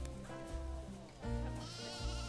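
Sheep in the Planet Zoo game's arctic setting give a few soft, wavering bleats in quick succession, fairly quiet and close, with no talking over them.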